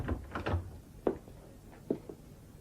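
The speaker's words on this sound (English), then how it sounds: "Shut the door, please." A door is shut as a radio play sound effect, heard as a couple of faint, dull thumps and knocks over a quiet room hush, with no voices.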